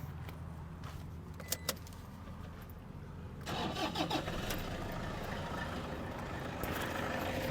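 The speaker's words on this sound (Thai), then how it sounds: "เดี๋ยวสตาร์ฟังเสียงเครื่องกันนะครับ" A couple of faint clicks, then a 2008 car engine cranks and catches, settling into a steady idle that runs nearby to the end.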